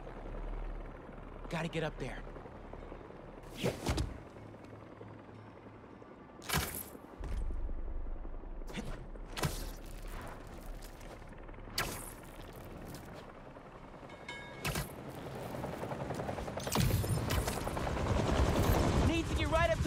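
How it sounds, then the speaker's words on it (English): A helicopter hovers in Marvel's Spider-Man 2, its rotor drone running underneath sharp, loud bursts of gunfire and impacts. Someone speaks briefly over the action, and the rotor wash swells louder toward the end. "helicopter's blades"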